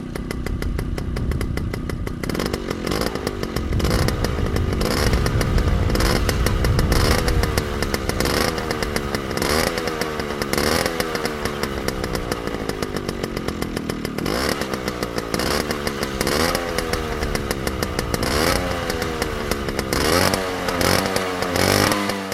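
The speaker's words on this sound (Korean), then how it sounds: "특유의 카랑카랑카랑 엔진 소리가" A 34-year-old Handy 50 two-stroke motorcycle engine runs loud and steady nearby, with a raspy, buzzing tone and repeated revving swells throughout.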